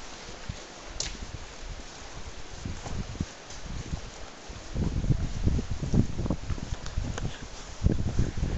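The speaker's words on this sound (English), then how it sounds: "there's a cold wind blowing" Cold wind blows across the seafront at Ortigia, Siracusa, on a grey overcast day, a steady rushing buffet on the microphone that swells into heavier low gusts in the second half, with no talking.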